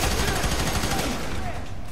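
Dense, continuous gunfire bursts from the F.E.A.R. 3 co-op shooter video game rattle loudly throughout, with a player's voice talking over the shooting.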